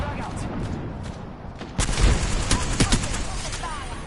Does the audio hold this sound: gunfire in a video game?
yes